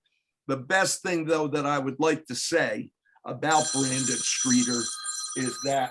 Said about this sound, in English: his father is calling me on the phone right now.